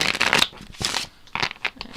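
A deck of playing cards being shuffled by hand in a random riffle shuffle, heard as close, crisp bursts of flicking and rustling card noise in several quick runs, with no talk.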